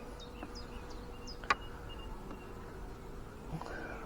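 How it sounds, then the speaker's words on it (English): Honeybees crowding the brood nest of an open hive, a steady low, faint buzzing hum with a few brief higher insect whines drifting past and one sharp click partway through. "absolutely rammed with bees in here"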